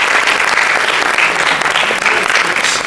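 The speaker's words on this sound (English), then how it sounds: "can you have a big round of applause for our own city?" A conference crowd at an education conclave breaks into loud, dense applause for their own city, a steady wash of many clapping hands filling the room without letup.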